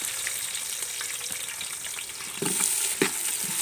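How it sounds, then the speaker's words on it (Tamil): Chopped onions fry in hot oil for a village-style mutton biryani, a loud continuous sizzle with a few stirring knocks toward the end. "இப்போ வெங்காயம் கட் பண்ணி வச்சுருக்கிற வெங்காயத்தை எண்ணெயில் போட்டுக்கலாங்க."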